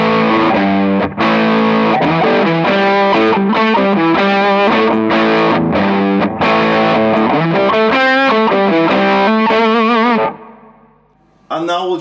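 An electric guitar plays through a Joyo Ultimate Drive overdrive pedal, a dense, driven riff of quick chords and notes in a steady rhythm, loud and saturated, before stopping and leaving a brief decay near the end.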